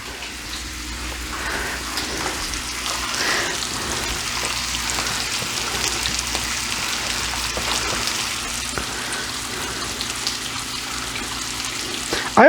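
Food for a full English breakfast sizzles steadily in a frying pan, a continuous crackling hiss that stays close and even throughout.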